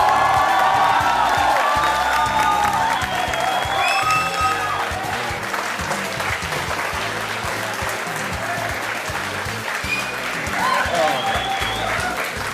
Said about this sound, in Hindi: और तालियां बजते रहे।